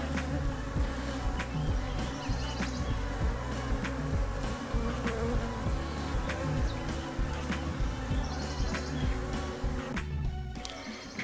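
Honeybees swarm around an opened hive during reassembly, making a dense, continuous buzzing drone close by, with individual bees flying past the microphone throughout.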